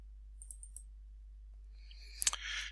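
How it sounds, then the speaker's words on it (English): A computer mouse double-clicks on a desktop icon: small, faint clicks, then a brief louder burst of clicking near the end in a quiet room. "I just double click on that icon"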